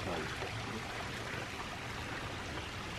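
Water flows down from above near a stone fountain in a quiet park, a steady broadband rushing and splashing that stays even throughout, with no voices.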